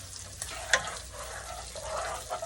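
Butter sizzles and spits in a hot pan on a home stove, a soft continuous crackling hiss with small pops and a brief louder clink or stir, fairly quiet and steady.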